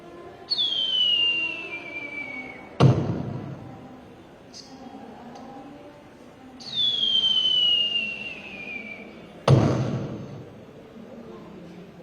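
A mimicry artist voices aerial fireworks at a school arts festival: twice a rising whistle glides down in pitch and ends in a sharp bang, each launch and burst clear and close.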